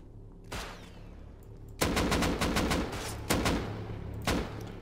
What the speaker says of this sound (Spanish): de la otra base me están disparando